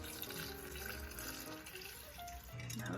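Beef stock poured into a Dutch oven over short ribs, a continuous splashing liquid flow for about two and a half seconds, close and moderately quiet.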